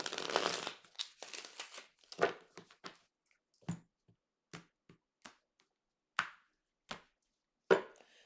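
Tarot cards are shuffled by hand during a reading: a dense papery riffle at first, then a run of separate sharp card taps and slaps spaced about half a second apart, close and fairly quiet.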